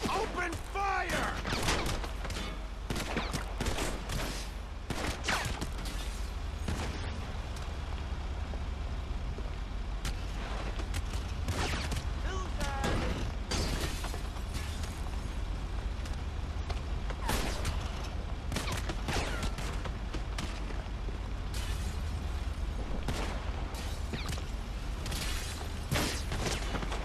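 Dense rapid gunfire and explosions fill a Grand Theft Auto 5 modded online lobby, with loud bursts and booms continuing throughout over a constant low rumble and some game voices mixed in.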